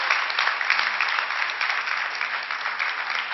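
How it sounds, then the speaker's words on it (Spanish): Steady, dense applause from a church congregation at a faith service, sustained at even loudness throughout with no talking over it. "Dale un aplauso a Jesús."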